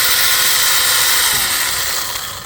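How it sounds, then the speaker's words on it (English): A powerful 6-inch mini chainsaw cuts through hard wood of an old fig tree, giving a steady, loud high-pitched buzzing whine that holds for a couple of seconds, then eases off slightly at the end. "It's a 6-inch mini chainsaw."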